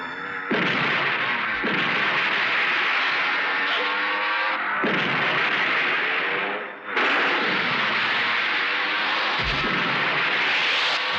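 Big explosions in a Hindi action film scene, loud roaring blasts and rumbling bursts one after another, filling the whole stretch with no clear speech.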